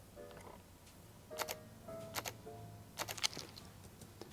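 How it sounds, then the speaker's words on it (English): A Fujifilm X-T mirrorless camera shutter fires several times as soft, quiet ticks and clicks, arriving in small bursts against a low hum. "The other thing is this shutter. It is absolutely exquisite."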